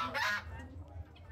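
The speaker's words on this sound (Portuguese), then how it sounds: "Esses patos são patos comuns mesmo" Common domestic ducks at a Brazilian poultry market give a loud honking call, then quieter calls fade out under market background noise.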